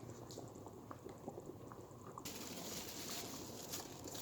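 Couscous pot bubbles at a steady rolling boil as steam vents through the couscoussier, a continuous close hiss that swells noticeably louder partway through.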